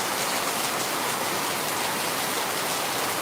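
Steady rain falls heavily and continuously, a dense even hiss with no voices.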